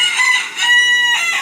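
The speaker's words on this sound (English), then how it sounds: "stupid feral roosters" A feral rooster crows loudly and close by, one drawn-out cock-a-doodle-doo with a brief break before the final rising note.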